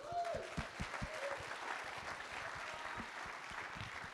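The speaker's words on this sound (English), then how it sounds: "Round of applause, please" An audience at a real estate mastermind event in Vancouver claps steadily, the applause fairly distant and even, with a few cheers and whoops rising over the clapping.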